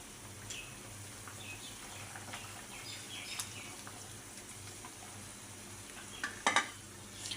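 Tilapia fish curry with drumsticks simmering in a pot, a steady low bubbling and sizzle with faint stirring, plus a couple of brief utensil clinks near the end; no talking.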